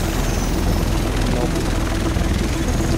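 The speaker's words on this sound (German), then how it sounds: "Der Rest von uns sitzt in diesem Heli." Helicopter in the video game The Division, a loud continuous rotor and engine roar filling the whole clip, close and steady.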